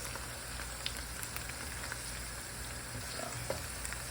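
Fresh garlic sizzles in a pan for a simple garlic and parsley pasta, a steady soft frying hiss with faint crackles, continuous and close, with no voices.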